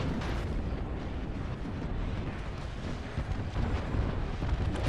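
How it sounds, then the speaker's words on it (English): A grenade explosion in a shooter video game, a loud, dense roar of blast and rumbling debris that fills the whole stretch steadily, with low, heavy rumble throughout and no voices. "I did crack someone with a grenade"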